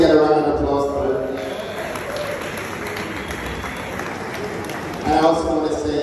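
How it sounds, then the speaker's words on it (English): Wedding guests applaud together, a dense burst of clapping that starts loud, settles into a steady patter, then swells again near the end. "Can we get a round of applause for it?"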